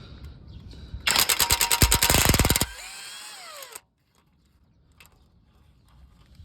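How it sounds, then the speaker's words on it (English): A ratchet with a 13 mm socket and extension rapidly clicks, loosening compressor support bracket bolts on a 2012 Jeep Compass, followed by a spin-down and quiet with a few faint taps. "I'm using a 13 millimeters and an extension for that."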